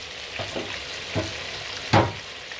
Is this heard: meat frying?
yes